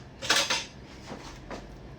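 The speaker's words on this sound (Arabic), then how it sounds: "راح أجيب ملعقة نظيفة." A clean metal spoon is fetched in a home kitchen while making cake, giving two quick, close cutlery clatters followed by two softer clinks, with no talking.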